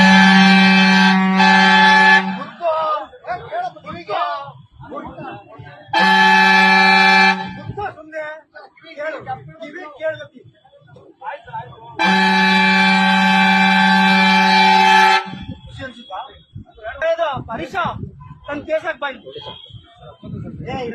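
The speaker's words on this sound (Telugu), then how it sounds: "ఇటువంటి హారన్లు ఎందుకు పెడతారు బండ్లకు" Loud vehicle horns of the kind fitted to bikes and vehicles in Bengaluru traffic blare in three long sustained blasts, with people talking in between the honks.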